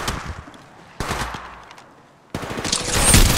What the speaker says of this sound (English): Shooting. Reloading.